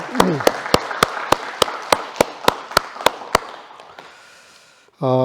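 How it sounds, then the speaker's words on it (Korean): A church congregation at a Korean mission church Sunday service in Berlin claps in unison, about a dozen sharp, evenly spaced claps that gradually fade, before a voice or music comes in abruptly at the end. "우리 영광의 박수 하나님께 크게 올리겠습니다."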